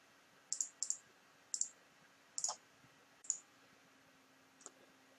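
Computer mouse clicks, about six sharp, quiet clicks, some in quick pairs, spaced irregularly over a silent background.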